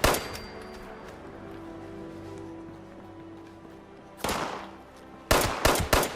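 Gunfire from enemies in Fallout 76: a rattle of shots at the start, then a lull filled with a low ambient drone, then a sharp burst and several rapid loud shots near the end.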